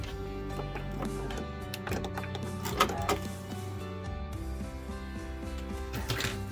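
A domestic sewing machine stitches a quarter-inch seam through quilt fabric, its steady motor hum carrying a rhythmic ticking of the needle, close and continuous throughout with brief clicks and pauses.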